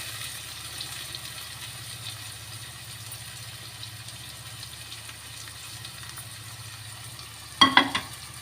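Two thinly sliced onions and a tomato frying in a pan for Andhra-style fish pulusu, a soft continuous sizzle under a low hum, with a brief louder clatter near the end.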